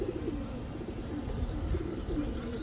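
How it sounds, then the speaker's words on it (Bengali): Domestic pigeons, a male and female pair of tota high-flyer Giribaz pigeons, coo softly in low, rolling murmurs. The cooing runs continuously at moderate volume over a steady background, with no talk. "তোতা একটা নর কবুতর"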